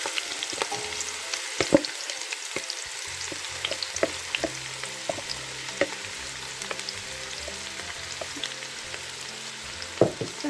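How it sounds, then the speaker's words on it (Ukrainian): Onions frying in heated oil in a thick-bottomed pot give a steady, close sizzle with scattered crackles and occasional stirring scrapes, and no voices. "олія нагрілась і тепер посипаємо сюди наші цибульки"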